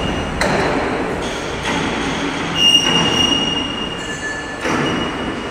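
Fence post roll forming machine line running: continuous loud metallic rumble and grinding with squealing tones and periodic clanks, close and steady.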